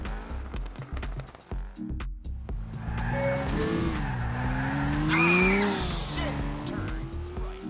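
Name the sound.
rally car driving in video game Dirt Rally benchmark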